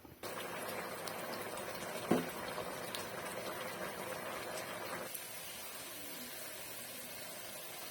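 Moringa drumstick pods simmer in reducing water in a pan, giving a faint, steady bubbling hiss with one brief knock partway through.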